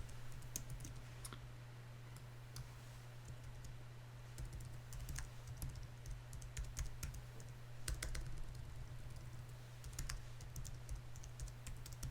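Fast, irregular key clicks from someone typing a MetaMask password on a computer keyboard, with bursts of keystrokes over a steady low electrical hum, and no one speaking.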